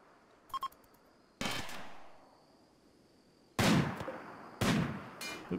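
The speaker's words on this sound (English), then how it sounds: "Did he just shoot him?" Gunshots in the colony-building video game RimWorld, a few sharp, loud bangs spaced irregularly with decaying tails, plus a couple of small clicky blips early on, over a quiet background.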